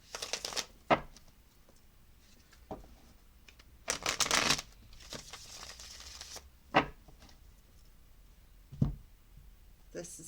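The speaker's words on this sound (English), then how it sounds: "now we're gonna shuffle. This is the Crystal Vision Tarot." Crystal Vision Tarot cards being shuffled by hand in short, scattered bursts of riffling and flicking, one longer flurry in the middle, fairly close and soft against a quiet room.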